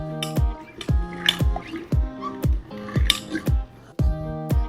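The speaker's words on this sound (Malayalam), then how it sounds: "ഇനി പതുക്കെ ഒന്ന് ഇളക്കി കൊടുത്തോ" A spoon stirs homemade cherry wine mixture in a pot, giving rapid repeated clinks and scrapes against the container with faint liquid sloshing, close and fairly quiet.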